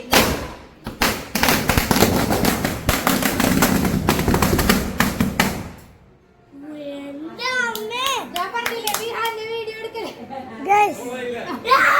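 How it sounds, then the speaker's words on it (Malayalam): A string of firecrackers bursts in a rapid, dense crackling volley for about six seconds during a post-Vishu celebration, then stops, and children's excited voices follow. "മാമ മാലപ്പടക്കം പൊട്ടിക്കാൻ പോണ്."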